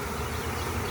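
Honeybees from a package being hived into a box fill the air with a dense, steady, close buzzing hum, with no voices.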